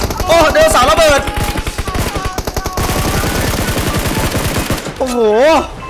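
Rapid bursts of automatic gunfire from PUBG Mobile on the Dinoground mode, loud and close, with sustained rattling volleys and someone talking excitedly over the shots.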